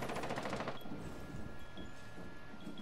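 Video game gunfire: a rapid burst of automatic shots rattles loudly for under a second, then gives way to quieter game ambience.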